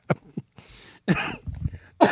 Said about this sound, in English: that's not a real cough